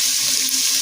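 Beef broth pours into a hot pan in the kitchen, giving a steady, close wash of liquid splashing with faint sizzling underneath through the brief moment.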